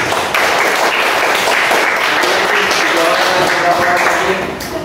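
High school classmates applaud a student in a coding class: a loud, steady burst of clapping from a roomful of students that fills the moment, with a few voices mixed in.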